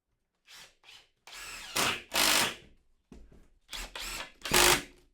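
A power drill drives screws through wood pieces into a stud in short, close, loud bursts: a few brief whirs, then longer straining runs with pauses between them.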